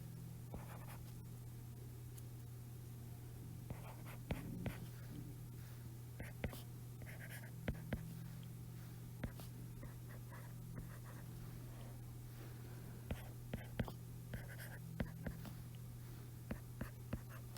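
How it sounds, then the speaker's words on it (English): A pen scratches out linear-system elimination math notes in quiet, intermittent strokes and taps, close and faint, over a steady low electrical hum and soft background hiss. "I'm writing down the same one we just did."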